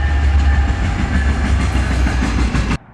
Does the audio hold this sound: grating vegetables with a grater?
no